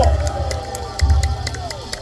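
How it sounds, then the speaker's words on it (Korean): An audience at a speech claps and cheers, a loud crowd roar with scattered sharp claps that swells again about halfway through. "여러분 박수 크게 보내주세요."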